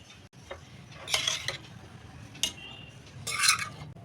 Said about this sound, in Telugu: మొత్తం వేసేసుకొని కలుపుకోవడం ఇది మొత్తం రైస్కి పట్టేట్లాగా బాగా కలుపుకోండి